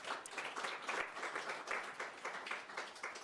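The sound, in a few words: audience applause at literacy day celebration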